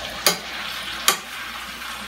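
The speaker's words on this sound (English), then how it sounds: "I'm pouring in the fish" Fish is poured into a pan of sautéed onion and tomato, giving two sharp sizzling bursts about a second apart over a low, continuous frying hiss.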